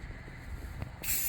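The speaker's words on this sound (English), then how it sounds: "This is how I spray painted my truck's wheels with primer." A quiet background hum, then a steady aerosol spray hiss begins near the end, close and continuous, as primer is sprayed onto a 2002 Ford F-250 Super Duty truck wheel.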